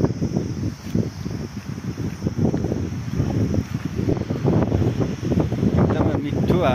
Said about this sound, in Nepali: एकदमै मिठो हावा चल्दो रहेछ